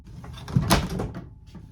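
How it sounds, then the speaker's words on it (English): RV cabinet doors and drawers are pushed shut inside a camper, giving a couple of close wooden knocks and a soft slide, with brief clattering after. "now I'm just gonna put everything back together, like my drawers and my cabinets here"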